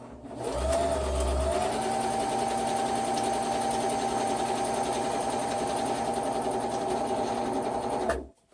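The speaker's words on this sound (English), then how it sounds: "you just put the right sides together and sew down this short side." A sewing machine stitches a short seam along fabric pieces placed right sides together, a steady fast mechanical whir that runs close and continuous for about eight seconds before stopping, with no talking.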